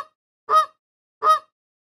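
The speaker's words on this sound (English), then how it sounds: "Goose." A goose honks twice, with two short, loud, nasal calls spaced about three-quarters of a second apart and silence around them.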